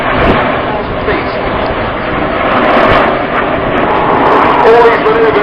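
Red Arrows display jets at the 2009 RAF Waddington airshow roar past, a sustained broad rush that rises and falls under a commentator's voice.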